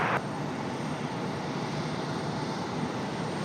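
Alaska Airlines jet taxiing at Raleigh-Durham International Airport, giving a steady, droning engine roar that holds even and continuous from a short distance, with a brief higher whine at the very start and no talk.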